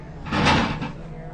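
A door opens once near the start, a short muffled rush of movement and air that rises and fades within about a second, loud and close.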